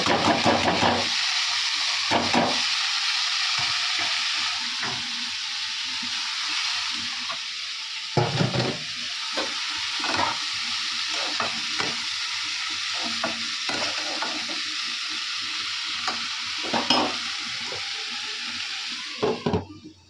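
Bengali fish curry bubbling and sizzling in a pan, a continuous loud hiss of frying broken by repeated scraping and stirring strokes, with no voices.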